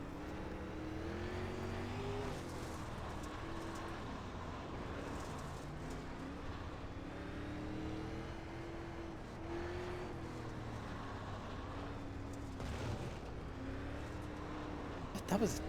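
Race car engine in a racing video game droning steadily throughout at a green-flag start, with pitch rising and falling as the car tries to put power down, heard beneath continuous talking.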